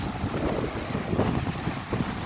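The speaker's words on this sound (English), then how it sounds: "It's quite windy." Strong gusting wind at Wollongong City Beach buffets the microphone in a constant low rumble, with a faint wash of surf underneath.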